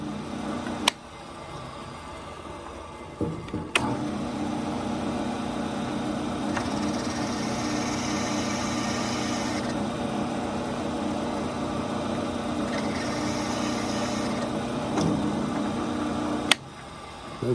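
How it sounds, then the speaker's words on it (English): A power drill runs steadily, boring a hole straight through the center of a clamped wooden walking stick, the motor whirring continuously for several seconds with slight changes in pitch and a couple of sharp clicks. "line your drill bit up right in the center"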